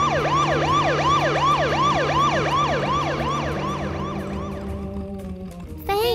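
Ambulance siren from a children's traffic cartoon, a loud, fast, rhythmic yelp repeating about a dozen times over a low steady hum, fading slightly before a brief different tone at the end, with no talk.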